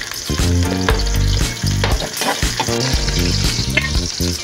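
Garlic and onion sautéing in hot oil for a banana-blossom adobo give a loud, dense sizzle that runs continuously alongside steady tonal music, with no one speaking.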